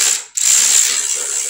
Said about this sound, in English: So we have this single bolt right here, which takes a 12 millimeter socket.